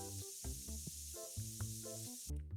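Spray can discharge in the game TCGSim, a sustained close hiss running almost the whole clip before cutting off near the end, over background music.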